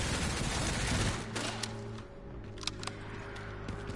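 Gunfire rings out in Resident Evil Requiem as a dense rattle of shots. It fades after the first second and a half into a few scattered, moderately loud single cracks over a low hum.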